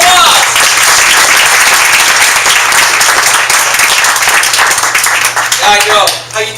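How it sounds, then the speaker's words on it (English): A crowd at a networking group launch event in Modesto claps loudly and steadily, then the applause tapers off as voices rise at the end. "Give David a big round of applause."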